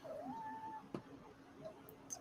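A pet cat resting on a lap gives a soft, rising then falling meow, faint and close, followed by quiet small sounds.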